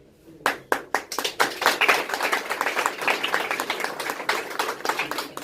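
Audience applause in a hall, starting with a few separate sharp claps and quickly swelling into dense, steady clapping from many hands that carries on without talk.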